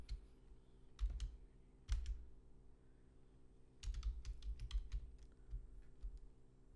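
Code is typed on a computer keyboard in short bursts of rapid clicking separated by pauses, close and fairly quiet over a faint steady electrical hum, with no speech.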